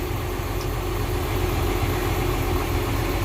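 A cold vehicle engine idles while warming up, a loud, steady low rumble with an even, unbroken drone close by, no voices over it.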